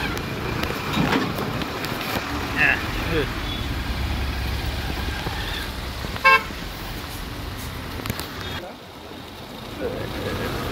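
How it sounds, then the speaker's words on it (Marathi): Busy road traffic, slowed by potholes near Mandvi, Virar, rumbles steadily with engines idling and passing, and a short car horn toots sharply midway; voices talk intermittently over it. "खड्डे पडल्यामुळे इथे थोडंसं ट्रॅफिक लागलंय आपल्याला"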